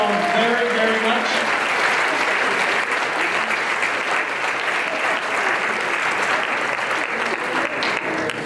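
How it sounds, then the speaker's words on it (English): Sustained, loud applause from an audience at a community dance competition event, a dense continuous wash of clapping filling the room with little variation. "So let's give a big round of applause to all the volunteers."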